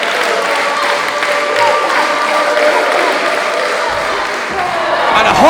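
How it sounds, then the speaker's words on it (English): A wrestling crowd at the Future Pro Wrestling Trick Or Treat 2024 show roars and applauds in a steady, loud wash of noise that swells slightly near the end, with a voice talking over it. "The crowd are right behind him."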